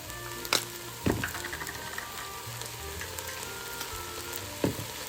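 Minced garlic sizzles in a pot while beef stew is being made at home, a steady close hiss punctuated by a few sharp utensil knocks, with no one talking.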